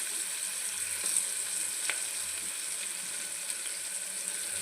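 Onion sizzles in a pan while cooking tomato bath, a steady soft frying crackle heard close with a faint clink and no voices.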